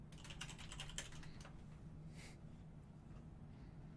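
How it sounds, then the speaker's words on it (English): Fast, angry typing on a computer keyboard: a rapid burst of loud key clatter for about a second and a half, then a few scattered taps under quiet room noise. "The rage typing."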